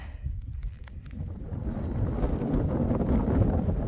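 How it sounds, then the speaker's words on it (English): Steady, cold wind roaring and buffeting the microphone on a hiking trail in Maine, building gradually louder, with low rumbling gusts and no voices. "it's windy and cold."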